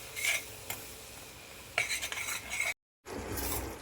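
Wheat flour being stirred and roasted in a pan for sheera, heard as soft scraping and rasping strokes with faint clinks, close and moderately quiet, broken by a brief silent gap.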